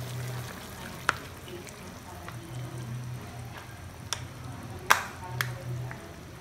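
Meat stew with coconut milk simmering in a pot as it is stirred: a quiet, steady sizzling bubble with a few sharp clinks of a spoon against the pot.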